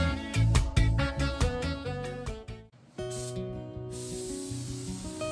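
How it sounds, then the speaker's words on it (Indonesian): Spray activator hisses onto a Yamaha X-Max front windshield bracket in a few close bursts, partly covered by loud background music. "kita semprot aktivator dulu. Ini sebenarnya punyanya Yamaha X-Max."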